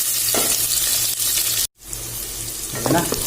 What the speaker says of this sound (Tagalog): Igisa natin ang bawang at sibuyas.